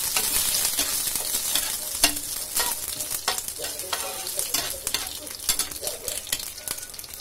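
Black mustard seeds and curry leaves hit hot oil and fry with a loud, close crackling sizzle, full of sharp irregular pops and spits that ease slightly over several seconds.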